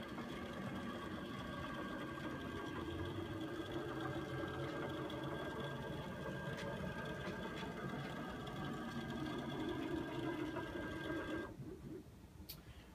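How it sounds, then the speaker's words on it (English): SolveTech BF200 blown film gauging system running online, giving a steady mechanical whir with tonal hum that continues unbroken for most of the span, then drops away sharply near the end. "So I'm going to go ahead and put the gauge online."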